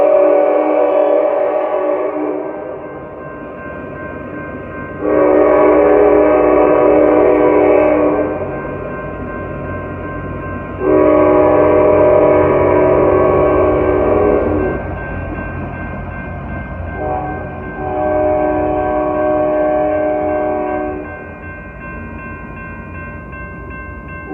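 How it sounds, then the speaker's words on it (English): An Amtrak San Joaquin train led by locomotive 90278 sounds its horn in Oakland, with four long, loud blasts separated by short gaps over a steady rumble of rolling cars. "here it is, Amtrak San Joaquin, led by 90278 MPCU unit in Phase 5D"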